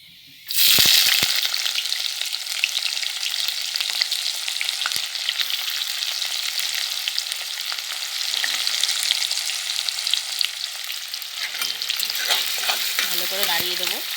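Chopped onions hiss and sizzle steadily in hot oil in a pan, with close, continuous frying noise and occasional scrapes of stirring as they brown in a village kitchen.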